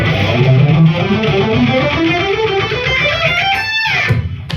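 An electric guitar, heavily processed with distortion and effects, runs up a scale in a steady stepwise line, loud and close, ending on a bright sustained note.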